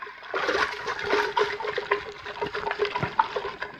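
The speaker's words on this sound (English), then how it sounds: "I'm going to stir it up just to get it into solution." Yeast settled at the bottom of a liquid culture is stirred back into solution for home-brew agar plate work, giving a continuous wet swishing with light clinks against the container, close and moderately loud.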